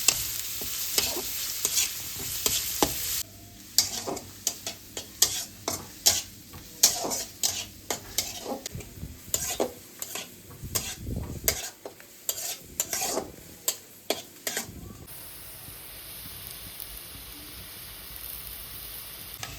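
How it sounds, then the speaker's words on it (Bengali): Onions frying in a pan under constant stirring, with a steady sizzle and rapid clacking strokes of a spatula against the pan, close and loud, easing into softer hiss near the end. "এবার পেঁয়াজটাকে যতক্ষণ না লাল রঙের হবে ততক্ষণ পর্যন্ত নেড়ে যেতে হবে"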